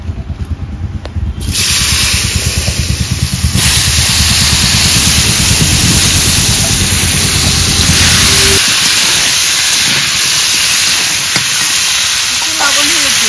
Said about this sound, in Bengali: এবার আলু কলা ভেজে নেব।